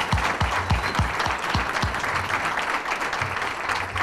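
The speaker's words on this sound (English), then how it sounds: "I'd like for y'all to give her one more applause." A chamber of commerce breakfast forum audience gives a community leader a round of applause, with dense, steady clapping from a roomful of people and a few dull low thumps near the start.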